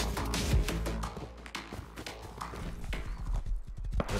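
Horse hooves clip-clop in a steady rhythmic trot in the survival game Rust, close and fairly loud, with a faint whinny mixed in.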